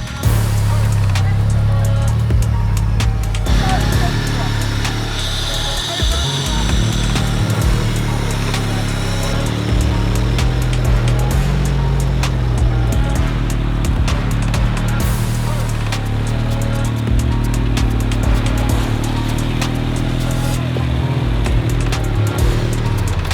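A 4WD crawler engine drones steadily at Springs Park as the vehicle works slowly over off-road terrain, loud and close throughout, with the low rumble rising and falling and scattered knocks and scrapes on top.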